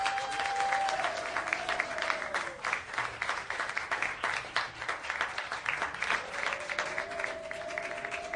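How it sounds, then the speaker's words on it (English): Audience applause at a stand-up comedy show: dense, steady clapping from a crowd fills about eight seconds without a break, with a thin whistle-like tone running faintly above it at the start and end. "Can you give it up for Bond, the sound guy?"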